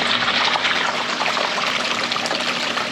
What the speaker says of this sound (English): We're going to go ahead and run these cons through this Gold Hog Multi Sluice and see what pops out